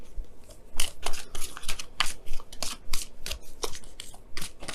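Oracle cards are shuffled by hand in a series of crisp riffling snaps and slaps. The bursts are close and fairly loud, repeating unevenly for several seconds with no talking.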